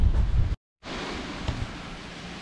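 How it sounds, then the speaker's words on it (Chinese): Strong wind sweeps through a near-deserted mountain village in the Taihang range, buffeting the microphone as a dense, roaring rush that briefly cuts out and then returns steadily. "这里风很大。"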